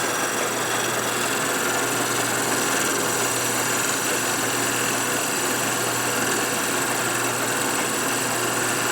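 Lathe turning a part for a rebuilt 1946 Harley knucklehead stroker motor with a carbide tool, spindle run up to 1,000 rpm: a steady whining motor hum with a faint continuous cutting hiss, no talk.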